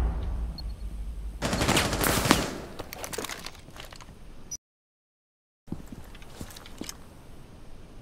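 Bursts of rapid gunfire in a Rainbow Six Siege Secure match on the Fortress map, a dense volley loud and close for about two seconds, then scattered shots and clatter, a brief dropout, and a few more isolated reports.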